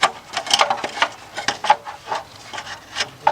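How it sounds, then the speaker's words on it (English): A bottom shield is fitted under a Ford EcoSport, giving close, loud rubbing and scraping as the panel is pushed into place, with irregular bursts of friction and knocks. "I'm going to get the bottom shield and put that in under here"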